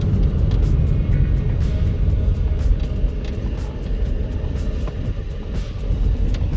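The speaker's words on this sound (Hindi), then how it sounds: "तो गाड़ी चलाता हूँ, देखता हूँ।" Car with an overheating problem being driven, a steady low engine and road rumble heard from inside the cabin with small ticking clicks over it, continuous and fairly loud.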